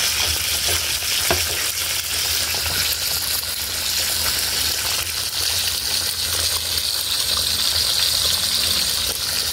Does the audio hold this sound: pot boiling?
yes